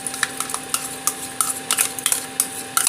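A spoon works half a kilo of yogurt around a cooking pot, giving repeated close scraping and clinking strokes in a steady rhythm, with no one speaking.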